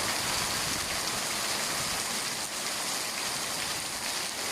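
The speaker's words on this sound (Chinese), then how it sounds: "好大的雨啊！" Heavy evening downpour during a sudden thunderstorm, a steady, loud, dense roar of rain pouring down without a break, no voices.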